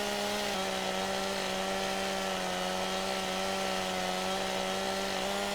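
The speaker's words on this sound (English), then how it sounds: "So we'll kind of just cut down the few trees that we will be removing." A chainsaw cutting down trees in Farming Simulator 17, a steady buzzing whine held at a constant pitch after a brief shift near the start, with no talking.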